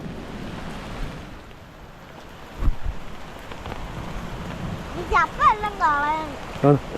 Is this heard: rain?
yes